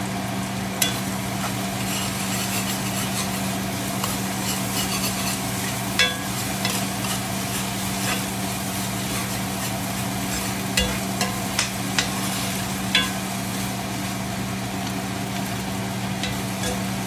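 Fried corn cooking in a pot sizzles steadily across the whole stretch, with occasional scraping clicks of stirring and a low constant hum beneath, no talking.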